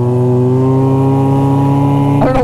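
Vintage 1970-era snowmobile engine revving through its exhaust, a loud close buzzing two-stroke note with steady rising harmonics that jumps sharply near the end.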